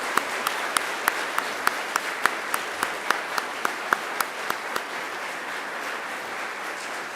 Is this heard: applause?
yes